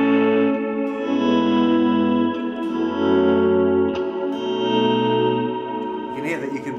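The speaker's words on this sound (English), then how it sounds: "I've got a set little favorite thing in here which turns it into a cavern, so you get this huge swell out of it" An electric guitar plays slow volume swells through a cavernous reverb effect, each note blooming in softly and lingering in a huge wash. The sustained tones overlap and fade gradually.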